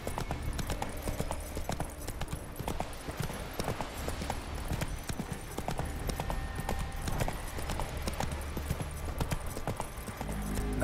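A horse gallops in the video game The Witcher 3, with steady, continuous clip-clop hoofbeats running throughout over a game soundscape.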